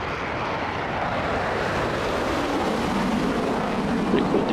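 A MiG-29A jet's engine in the DCS World flight simulator gives a constant, loud broadband roar that holds steady without pause.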